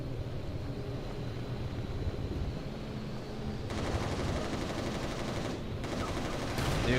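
Rapid, continuous gunfire rattles from the video game Resistance: Retribution, dense and loud throughout, intensifying partway through with a few short breaks in the stream of shots.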